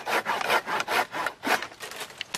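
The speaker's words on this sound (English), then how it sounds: "So I switched back from my fine tooth pruning blade, pull saw blade, to my coarse tooth" A coarse-tooth pull saw cuts through a tree branch with close, regular rasping strokes, about two per second.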